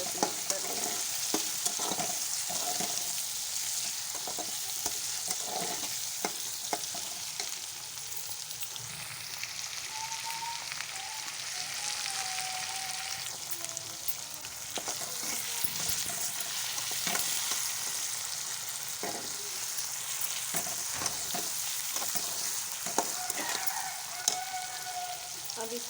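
Fish curry masala sizzles steadily in a pan while a spoon scrapes and stirs it in repeated strokes, the frying noise continuous and close throughout with no talking.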